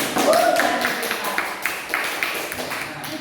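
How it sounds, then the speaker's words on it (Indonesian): A classroom of students claps together in a steady, even rhythm, the evenly spaced claps sounding close and moderately loud, with a voice briefly heard at the start. "Beri tepuk tangan untuk Sugi."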